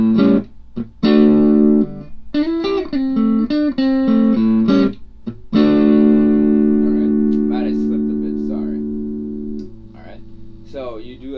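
An electric guitar plays the main riff of a song: choppy, punchy notes with slides, then a long ringing chord that slowly decays under a few brief picked notes.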